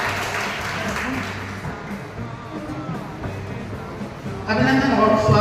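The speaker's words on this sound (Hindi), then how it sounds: "2000 तालियों के" An audience claps at a welfare society's annual function, steady applause mixed with an amplified host's voice, swelling louder near the end.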